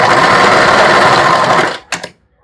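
A sewing machine backstitches a bra strap in place, running loud and close in one steady burst. It stops with a couple of sharp mechanical clicks, then falls quiet.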